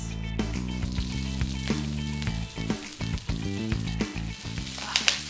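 Garlic and chili aromatics hit hot oil in a wok, a loud continuous sizzle with crackles and stirring scrapes, close up under a steady hum.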